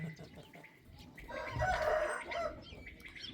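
Outdoor roosters crow in one drawn-out cock-a-doodle-doo that swells through the middle, with scattered clucks from other fowl around it. The crowing comes from moderately close and stands alone without talk.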